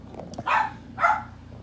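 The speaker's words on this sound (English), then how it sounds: "Lulu barks right on cue" A dog named Lulu barks twice, two short, close yelps about half a second apart in an otherwise quiet room.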